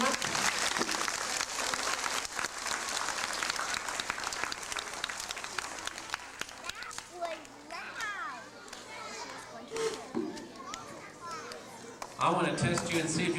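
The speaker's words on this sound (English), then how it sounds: "let's give a round of applause to our readers of the month" A crowd applauds readers of the month at a school awards event, loud clapping at first that fades into children's chatter and excited voices, then a fresh burst of clapping near the end.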